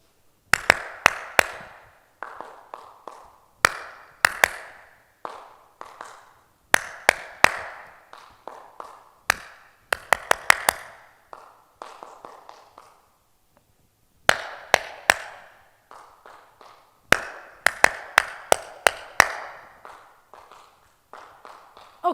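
Rhythmic hand clapping by a single person, crisp close claps in repeated patterned bursts separated by short pauses, with some softer taps mixed in.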